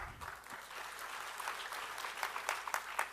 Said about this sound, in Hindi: यहां तक भी तालियां आपकी अच्छी हैं